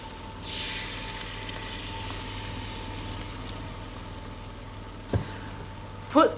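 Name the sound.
batter sizzling in hot oil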